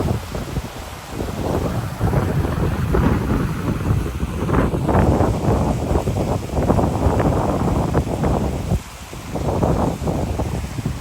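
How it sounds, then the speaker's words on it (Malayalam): Strong cold wind gusts at the Aruvikkuzhi waterfall, a loud, steady rumbling buffet against the microphone with surging bursts and no talk. "ഇവിടെ ഭയങ്കര ശക്തിയായിട്ടാണ് കാറ്റടിക്കുന്നത്."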